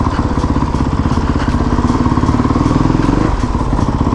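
A 450 motorcycle engine runs loud and close while being ridden past abandoned factories, a steady pulsing throb with faint voices underneath.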